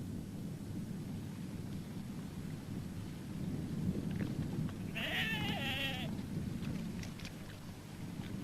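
A single sheep bleats once, fairly clearly, over a constant rumbling wind-like background in a large paddock where ewes are kept, the call lasting about a second mid-clip.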